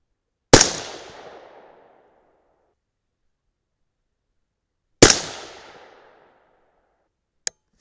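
A .223 Remington rifle loaded with 75-grain Speer Gold Dot bullets fires two sharp, loud shots about four seconds apart, each with a decaying echo, followed by a brief faint click.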